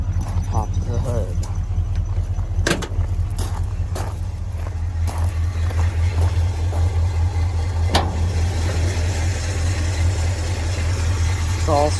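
A 1966 Dodge D100 pickup with a stock Poly 318 V8 that burns a little oil idles steadily and close by, a continuous low rumble with occasional light clicks and knocks over it.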